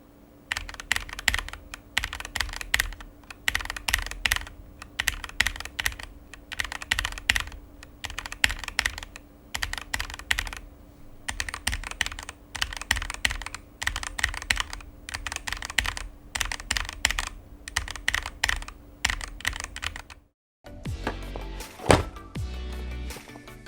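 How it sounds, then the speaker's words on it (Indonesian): Close, rapid clacking of a VOYAGER68 mechanical keyboard typed in bursts with brief pauses, loud and crisp, ending with a short change to sharper, brighter typing as keycaps with and without interference are compared. "kasih sound test dikit untuk bedanya keycap yang kena interference dan yang nggak kena"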